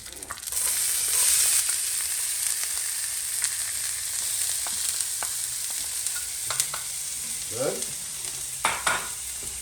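Garlic and onion fry in oil in a pan, a steady close sizzle running throughout with occasional stirring clicks and a single brief spoken word.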